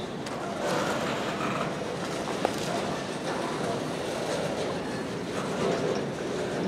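A CSX freight train, Q410, led by locomotive CSX 5426 with three locomotives, passes as a continuous broadband rumble and rolling noise, fairly close, with one sharp click.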